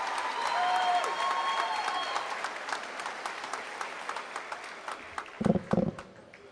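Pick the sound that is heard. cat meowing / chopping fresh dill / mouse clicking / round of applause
round of applause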